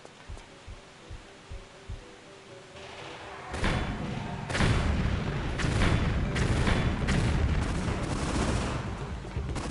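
Gunfire in Tomb Raider 3 aimed at a pair of walls: a few soft low thumps, then a dense run of loud, booming shots that crack out one after another and fill the rest of the stretch.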